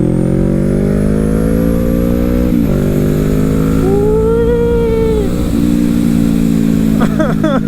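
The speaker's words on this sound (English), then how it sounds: "It's the best sounding bike" A motorcycle engine drones loud and close with a strong, steady tone, its pitch easing down and shifting slightly as the revs change.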